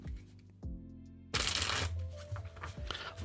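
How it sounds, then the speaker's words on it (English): Tarot cards are shuffled close up: a quick riffle, a short pause, then a longer, louder burst of riffling and tapping. "Final shuffle."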